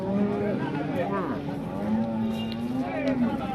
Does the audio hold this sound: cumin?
no